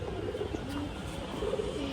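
Domestic pigeons cooing inside a breeding loft, soft low repeated coos over a steady background hum, faint and close.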